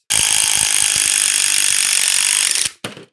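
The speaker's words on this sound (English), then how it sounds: "the reason why you want to use an impact driver instead of a drill with this" An impact driver drives a cutting accessory in a loud, harsh, continuous burst of rapid hammering that runs for over two seconds, then stops, followed by a brief short restart.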